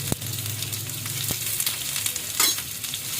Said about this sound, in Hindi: ये ऑयल गरम हो चुका है। अब मैं इसमें डालूंगी ये प्याज।